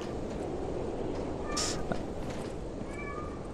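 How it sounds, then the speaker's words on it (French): A cat meows once, a short clear cry standing out over a steady low ambient bed in a dark game world, with a faint second meow-like call shortly after. "il y a un chat, je vous jure, il y a un chat quelque part"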